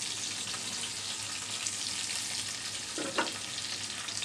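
Tilapia fish pieces frying in hot oil, a steady close sizzle and crackle with a brief bubbling burst near the end; no voices.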